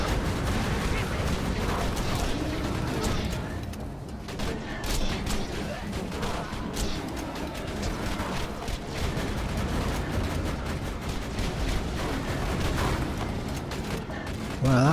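Gunfire and a grenade blast in Borderlands 2 rattle through a dense, loud mix of rapid shots, booms and mechanical game effects, with a voice talking over much of it.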